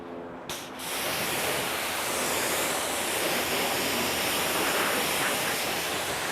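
Water sprays steadily over a black BMW during a rinse, a dense, continuous rushing hiss that starts abruptly and holds at an even loudness throughout.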